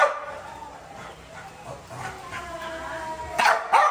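Dogs bark and yip intermittently nearby, with short sharp bursts toward the end and some whimpering in between.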